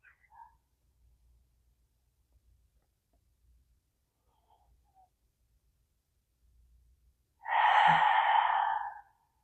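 A single slow, audible exhale near the end during a quiet prenatal yoga breathing session, breathy and close after a long stretch of near silence.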